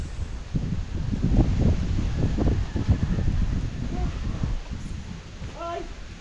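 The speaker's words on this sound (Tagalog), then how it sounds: "Mahangin pa." Steady wind roars and buffets the microphone throughout, a low rumbling rush that dominates, outdoors at a house being plastered, with faint rustling and a few brief tonal bird-like chirps near the end.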